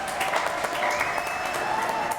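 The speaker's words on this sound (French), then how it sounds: "On applaudit Fictou quand même" Steady clapping fills a French TV studio show as the audience applauds a guest, a dense, even burst of applause that lasts the whole moment.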